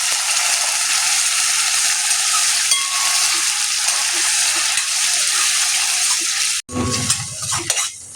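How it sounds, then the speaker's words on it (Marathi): Cluster beans frying in a pan give a steady, loud sizzle with faint clinks, then onion-tomato puree is poured in and the sizzle abruptly drops before bubbling back unevenly near the end. "त्यानंतर त्यामध्ये हे ग्रेव्ही केलेलं कांदा टोमॅटो ही प्युरी टाकायची"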